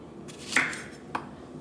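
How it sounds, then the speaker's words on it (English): A kitchen knife slices zucchini into rounds on a cutting board, giving two separate crisp taps about half a second apart, moderately quiet against a faint room hum. "Just chopping it into circles,"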